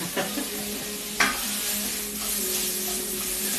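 Onions fry in a pan for toad in the hole, a low steady sizzle close by with a couple of sharp clinks of utensil on pan early on, with no one speaking.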